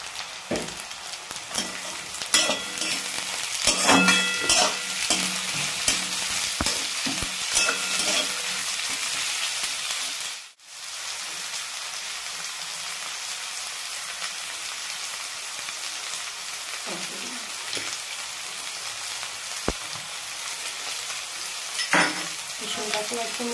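Garlic and capsicum frying hard in a pan for a chicken roll, a loud, crackling sizzle with stirring clatter, cut by a brief dip in the middle before the frying carries on strong.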